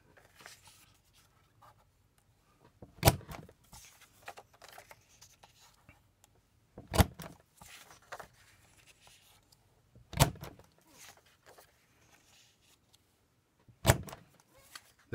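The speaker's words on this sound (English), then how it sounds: "There's another paper punch." Paper punch clamping through paper sheets for a nested pinwheel craft, four sharp isolated punches spaced a few seconds apart, each a loud clunk, with quieter handling rustles between.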